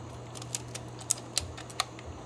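An original Canon F-1 35mm film camera clicks as it takes a photo: several small, crisp mechanical clicks spaced unevenly over a faint steady hum, quiet and close.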